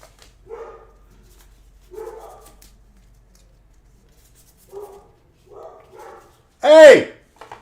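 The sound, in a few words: dogs barking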